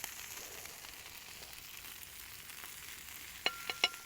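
Cooking oil is poured into a pan on a tawa for frying freshly caught fish, with a faint, steady sizzle throughout and a few sharp metallic clinks near the end.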